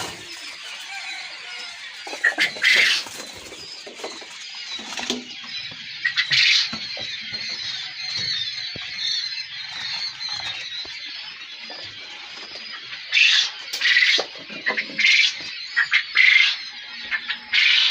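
Quail birds and their chicks calling in a pen: repeated bursts of shrill, high chirping come in clusters over a steady background hiss.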